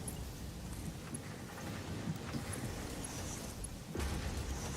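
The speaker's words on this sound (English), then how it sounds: "it's just raining everywhere in Satisfactory today" Steady rain falls across an open world in the video game Satisfactory, a constant wash of noise with a faint rumble that swells slightly near the end, with no voices over it.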